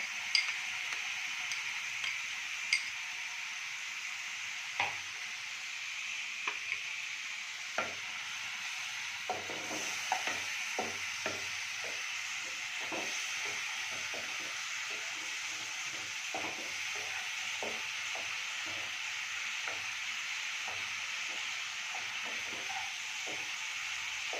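Ginger paste sizzles in a pan with a constant quiet hiss, broken by repeated short scrapes and taps of a spatula stirring.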